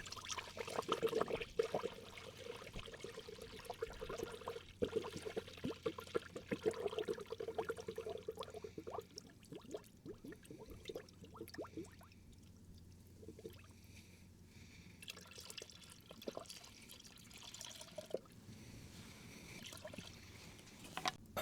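Coolant pours into the cooling system of a Subaru WRX that has a heating problem, a soft, continuous liquid trickle and gurgle at low level, a little busier at first and then thinning out.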